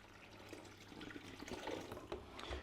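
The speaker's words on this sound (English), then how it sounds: "we can kind of start to pour a little bit faster until we get to the point of the level of water we need" Water poured steadily into a coffee filter bag of grounds for cold brew coffee, a soft continuous trickle and splash, fairly quiet and close, with no talking.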